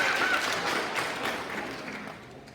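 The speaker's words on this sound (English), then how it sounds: "maybe give a round of applause for Walking Tacos" Parents at a school activities meeting give a round of applause, a soft, dense patter of clapping that fades gradually toward the end.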